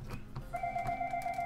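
Phone ringing with a steady electronic tone that starts partway in and holds to the end, faint and close over quiet room noise.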